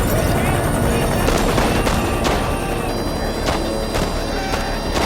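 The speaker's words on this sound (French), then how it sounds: "Ils sont en plein milieu des tirs antiaériens de l'ANV." Anti-aircraft gunfire crackles around helicopters in a war zone, sharp shots and bursts popping irregularly over a continuous rotor and engine roar, with loud voices mixed in.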